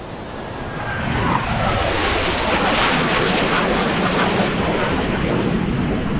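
A jet aircraft passes overhead, a loud, broad roar that swells in over the first second and then holds steady and rushing, with no voices.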